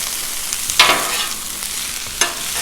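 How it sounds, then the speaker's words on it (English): Onions sizzling and frying on a Blackstone griddle, a steady broadband hiss with two brief louder flare-ups as the food is stirred and turned, close and without talk. "Smell of frying onion is something special."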